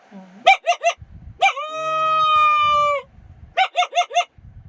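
A voice imitates a dog with quick yipping barks in threes, then a long drawn-out whine, followed by more rapid yips.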